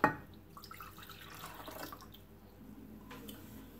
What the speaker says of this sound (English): then we pour it in the cup